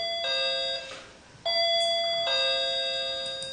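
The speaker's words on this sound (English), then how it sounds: "Let's get that doorbell fixed." A doorbell rings twice in a ding-dong pattern, each bright chime ringing out and decaying, loud and close with a short pause between the two rings.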